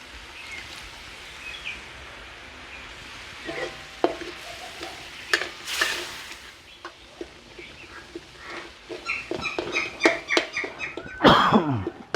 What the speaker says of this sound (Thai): ผัดไปเรื่อยจนพริกแกงหอม